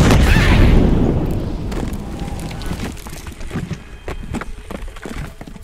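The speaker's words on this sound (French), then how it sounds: "Explosion volcanique incendiaire!" A loud, rumbling blast of a fiery volcanic explosion effect in a tabletop role-playing game opens and slowly fades into crackling and scattered debris-like pops, sounding big and booming.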